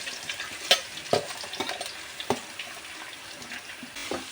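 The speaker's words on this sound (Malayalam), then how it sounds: "വെളിച്ചെണ്ണ ചൂടായിട്ടുണ്ട്, സബോള ഇട്ട് കൊടുക്കാം." Onions hit hot coconut oil and are sautéed for a Kerala-style country chicken curry, with crackling frying and several distinct spatula scrapes and clinks spread unevenly through the sizzle.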